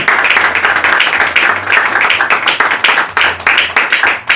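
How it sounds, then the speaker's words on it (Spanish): A church congregation claps in applause, a dense flurry of hand claps that swells and briefly dips before continuing. "Den un aplauso a Jesús."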